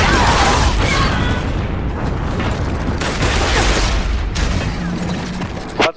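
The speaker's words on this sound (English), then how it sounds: "That's the boom shot." In the Gears of War video game, the Boomshot erupts in loud, heavy blasts that merge into a dense, continuous roar of explosions and crackling debris, ending abruptly.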